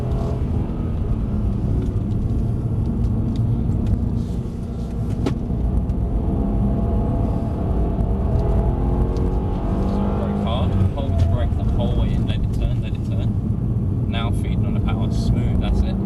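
A Mercedes C63s AMG lapping a track gives off a continuous loud engine rumble and roar with shifting revs, under steady talk from people inside the car throughout.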